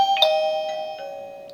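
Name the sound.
wireless doorbell chime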